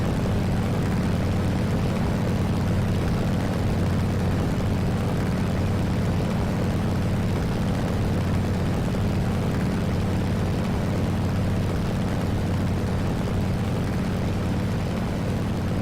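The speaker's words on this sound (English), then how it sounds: "So this is our bombing run." A propeller aircraft on a bombing run in the War Thunder VR combat game, its engine giving a loud, steady, continuous drone for the whole stretch with no talking over it.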